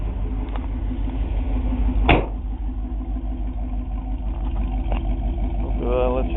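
A Pontiac Trans Am exhaust idling nearby, a steady, deep, even rumble that holds for the whole stretch, with one brief knock partway through.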